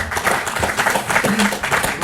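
Brief applause from party lawmakers at a Liberty Korea Party caucus meeting after a unanimous vote on a dismissal motion against the unification minister, a dense indoor round of clapping mixed with voices.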